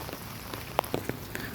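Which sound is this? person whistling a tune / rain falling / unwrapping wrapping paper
rain falling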